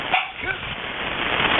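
A couple of quick dog barks up close during a ham radio net, followed by faint background noise over a muffled radio-like hiss.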